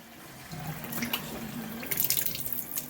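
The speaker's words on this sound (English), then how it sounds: "Turn on your water." Tap water running during machine cleaning, a steady splashing flow with brief bubbly surges, moderately close and alone without voices.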